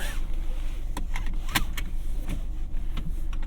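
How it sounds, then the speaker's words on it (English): Power windows on a Mazda Miata hum as they close, a low motor whine inside the car broken by several sharp clicks and thumps, with some voice sounds underneath. "Put your windows all the way back up."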